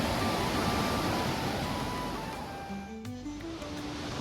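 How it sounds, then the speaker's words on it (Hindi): The Ganges flows near Gangotri, a broad steady rushing of river water that fades slightly toward the end, where a faint tonal sound appears. "पास में गंगा नदी बहती हुई"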